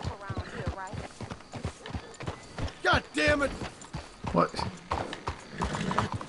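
Horse hooves clip-clop at a trot amid neighing in the video game Red Dead Redemption 2, with a voice exclaiming over the steady hoofbeats.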